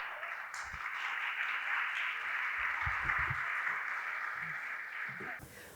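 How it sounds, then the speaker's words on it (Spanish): Sustained applause from a seated audience welcoming a woman about to give a lecture on the neurobiology of the healthy brain; steady, dense clapping at even loudness throughout, ending abruptly. "Un aplauso para ella"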